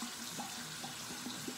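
Warm tap water runs steadily into a sink while a face is rinsed, a faint continuous gush with a few soft splashy accents and no talking.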